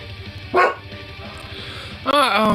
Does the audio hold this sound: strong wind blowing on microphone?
no